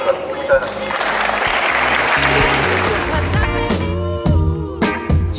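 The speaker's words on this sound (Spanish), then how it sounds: "Lo que pido es un verdadero aplauso para Martín por todo el tiempo que nos dio" Studio applause for Martín at the close of a Spanish-language sports talk show, steady clapping under a musical outro that rises toward the end.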